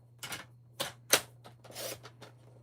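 Scissors snip through paper scraps being cut down to 1.5-inch pieces for handmade cards: several close, crisp cuts and rustles in a quiet room with a faint steady hum.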